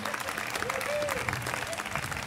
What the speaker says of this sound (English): The parents, please give yourselves a round of applause